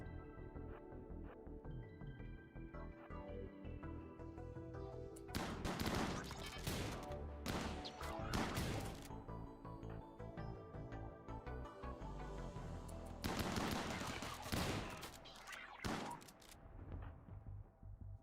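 Bursts of gunfire from a RimWorld colony battle crackle in several volleys over steady, tonal background music, with dense clusters of shots in the middle and toward the end.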